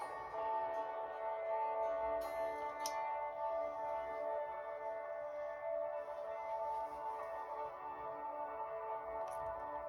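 Ambient drone built from layered loops on a micro looper pedal with reverb: soft, sustained tonal layers hum steadily and quietly, with a few faint clicks scattered through.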